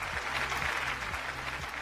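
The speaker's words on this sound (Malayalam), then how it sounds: "അശ്വന്തിന് നല്ലൊരു കയ്യടി." Studio audience applause for a contestant on a Malayalam TV game show, a steady mass of clapping at moderate level across the whole stretch with no voices over it.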